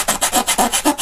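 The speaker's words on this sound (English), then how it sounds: "Then what I'm going to do is I'm just going to come in and start sanding it" A balsa wood wing mount for a 1/4 scale Fokker D.VII model is hand-sanded with quick, close, rhythmic back-and-forth rasping strokes, about eight in one second.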